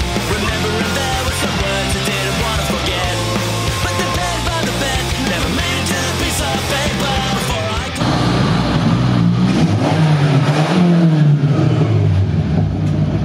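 A first-generation 1974 Honda Civic with a turbocharged engine revs loudly and continuously, its note rising and falling through sweeping throttle blips near the end.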